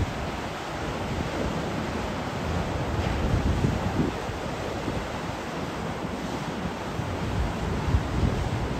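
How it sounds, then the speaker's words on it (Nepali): Ocean surf rolls in at Bondi Beach in Sydney, where surfers practise. A steady, broad wash of breaking waves carries on throughout, mixed with wind rumbling on the microphone, and no voices are heard. "सफा राम्रो बिच रहेछ है"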